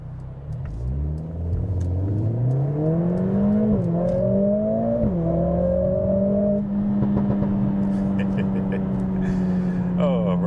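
A Mercedes CLA45s with a loud modified exhaust pulls out at a busy junction and accelerates hard, the engine note climbing through gear changes before settling into a steady drone, loud and close.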